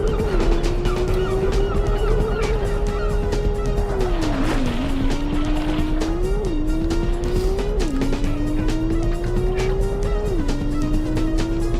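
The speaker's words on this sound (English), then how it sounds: "Birds!" Birds squawking in the PS1 racing game Porsche Challenge, heard under a loud, droning car engine whose pitch rises and drops with gear shifts throughout the run.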